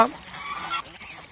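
A goose gives a short honk at the start, followed by a few rough, overlapping honking calls from a small group of geese nearby.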